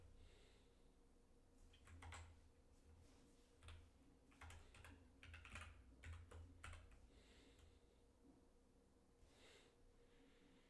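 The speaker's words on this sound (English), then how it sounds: "You can hear the magical keyboard clicks." Computer keyboard keys clack in quick irregular bursts of typing, close and fairly soft, with pauses between runs and a low hum beneath.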